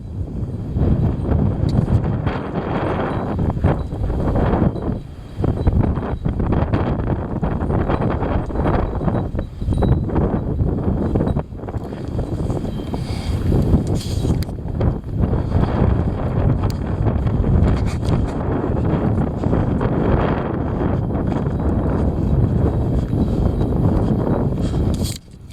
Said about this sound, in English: Here it is. The heavy wind.